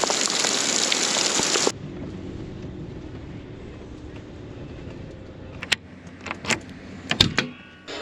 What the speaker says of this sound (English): And we got more rain.